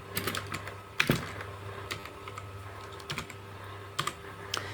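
Computer keyboard keys tapped while typing text in PowerPoint, a quiet, irregular run of close clicks with short pauses between bursts, no voices.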